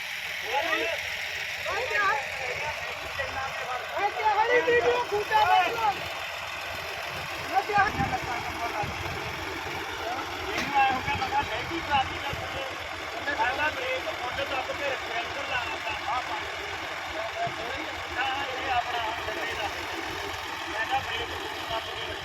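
Two tractor engines drone steadily under a long stretch of overlapping voices as they pull a trolley loaded with potato sacks, the rumble continuous and moderately loud throughout.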